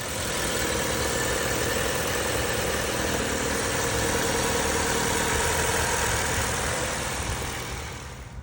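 2012 Chevy Cruze with manual transmission idling after a slave cylinder replacement, a steady close engine drone holding even for several seconds before fading slightly at the end.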